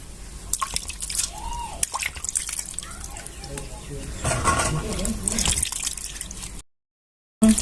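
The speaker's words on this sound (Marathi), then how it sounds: "इथं मी टोकरीत पाणी घालून घेतले डांगर धुवायला" Water sloshes and drips as a pumpkin is washed in a basket of water, with a voice talking at times; a short silence near the end.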